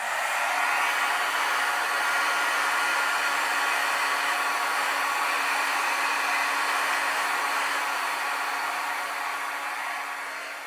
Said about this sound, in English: I'm going to go ahead and dry it with my heat tool so that I know it's completely dry